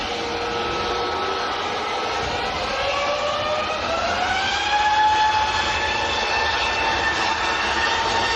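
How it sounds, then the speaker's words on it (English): A Scandinavian Airlines Airbus A320neo takes off at Manchester Airport, a steady broadband engine roar with slowly rising and falling tones that swell and hold loud throughout, with no voices. "Scandinavian next to go,"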